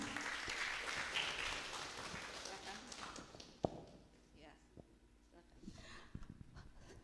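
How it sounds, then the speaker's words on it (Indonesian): An audience at an Indonesian human rights seminar claps for an invited speaker: a full burst of applause that thins out after a few seconds into scattered claps and room noise, with speech around it. "Beri tepuk tangan"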